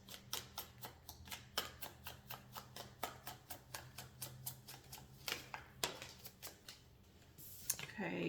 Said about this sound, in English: the plan is to just shuffle my cards and see